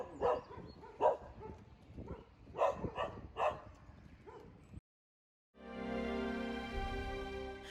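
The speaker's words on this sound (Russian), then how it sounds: "Мы заметили, что в Сухуме много собак." Several dogs bark on a street in Sukhum, Abkhazia, a run of loud, close barks and yelps over about five seconds, then a brief silence before a steady droning background takes over.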